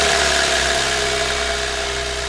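A Porsche 911 991.2 Carrera S flat-six engine just after a cold start, a steady, full idle drone with a low rumble, heard close and alone.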